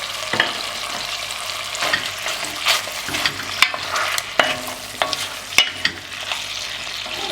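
A pound of beef with sliced lardons sizzles loudly in a pan for a bœuf bourguignon, a dense continuous crackle close up, punctuated by occasional knocks and scrapes of stirring, with no talking.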